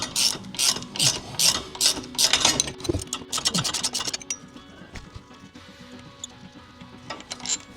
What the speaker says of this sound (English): Next, we take off the drive shaft bolts.